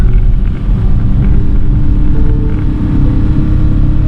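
A loud, steady engine drone with heavy low rumble from a kei camper van at full throttle, straining continuously and struggling to reach 40 km/h, with no voices over it.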